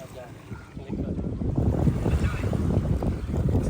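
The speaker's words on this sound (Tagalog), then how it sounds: "Parang mahangin." Wind gusts buffet the microphone at a waterside, a steady low rushing roar that builds slightly over a few seconds, with a faint watery wash underneath.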